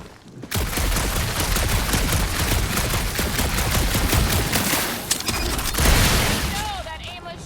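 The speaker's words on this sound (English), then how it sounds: "that aimless shooting isn't gonna scare the monsters away" Gunfire in Guardians of the Galaxy rattles in a continuous, dense barrage lasting several seconds, loud and close, with game voices talking over it near the end.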